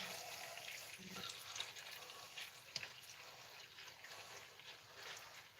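Beef pieces for carbonnades flamandes sear in a pan, giving a soft, steady sizzle with faint crackles at low volume throughout.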